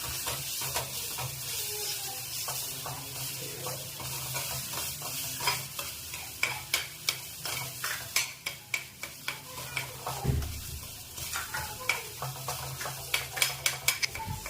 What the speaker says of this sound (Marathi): पूर्णपणे ते मॅश करून घ्यायचे आहे। चांगले पूर्ण एकजीव होईपर्यंत मिक्स करायचे आहे।